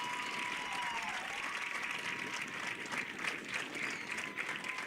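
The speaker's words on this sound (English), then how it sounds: "Let's give them a nice round of applause once again." Spectators applaud a goal at a girls varsity soccer game on senior day, a steady broad wash of clapping heard from a distance across the whole stretch, with a faint whistle-like tone early on.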